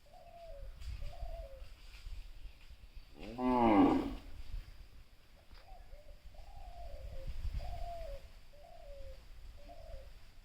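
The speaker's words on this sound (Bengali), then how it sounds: "ঘুঘুর ডাক শুনছি" A dove calls near a neem-tree homestead by a village pond in Jessore, repeating short, evenly spaced cooing phrases, while a louder, rough harmonic call breaks in once around the middle.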